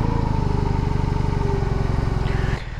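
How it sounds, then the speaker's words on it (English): A 2022 BMW R18 Transcontinental heavy cruiser with a large boxer engine runs with a deep, steady, lumpy throb, loud and close, then the pulse drops abruptly near the end. "what you notice when you start it up is the whole bike goes like this because it's a huge boxer engine"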